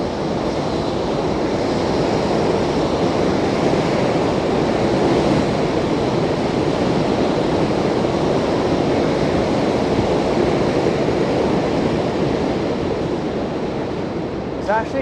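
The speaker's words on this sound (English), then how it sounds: "There's actually quite a bit of wind against me right now. So I'm experiencing a nice headwind." Strong headwind roaring across the microphone while cycling through New York City streets, a loud, unbroken rushing buffet that stays constant throughout.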